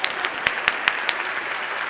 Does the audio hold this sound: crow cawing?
no